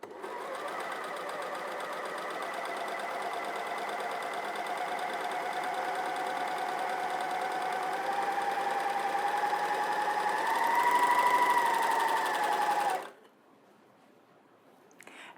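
Janome MyLock 454D overlocker stitching and gathering fabric, a fast continuous mechanical whir with rapid needle chatter that runs steadily, then cuts off abruptly near the end.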